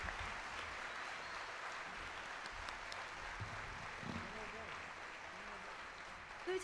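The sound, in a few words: audience applause at school closure ceremony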